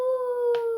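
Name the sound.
voice imitating a spooky ghost moan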